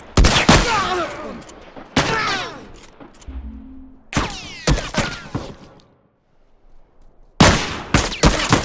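Gunfire in The Last of Us multiplayer, several loud sharp bursts of rapid shots in clusters separated by brief pauses, close and punchy with echoing tails.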